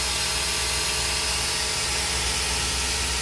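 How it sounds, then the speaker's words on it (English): A Tsugami BO325II CNC Swiss lathe runs its sub spindle at 2500 RPM, a loud, steady mechanical hum and broadband whir with no pauses. "And now we also have the sub spindle going at 2500 RPM."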